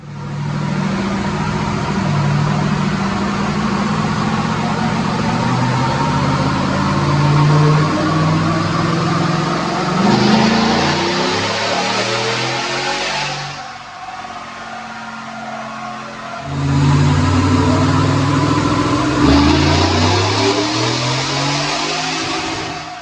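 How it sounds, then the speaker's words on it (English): A Roush-supercharged 2019 Ford F-150 truck engine runs hard on a dyno: a loud, sustained roar with rising rev sweeps that dips briefly midway, then climbs again to full volume. "let's make the dyno pull and let's see what it makes"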